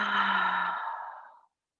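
An open-mouthed exhale during a gentle yoga session, one long breathy sigh up close that starts full and fades away over about a second and a half into silence.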